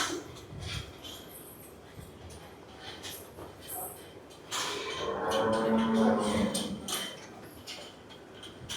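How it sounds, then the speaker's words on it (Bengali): A large Sahiwal bull of over 700 kg at a livestock farm moos once in a deep, drawn-out low call midway through, amid background shuffling and faint voices nearby. "আমরা একটু গরুটা ক্লোজ থেকে দেখাই।"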